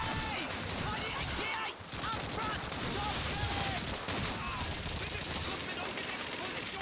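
Call of Duty 2 game audio carries a rapid, relentless MG42 machine gun stream, dense evenly spaced shots rattling loud and near for the whole stretch, with other battle noise and a voice underneath.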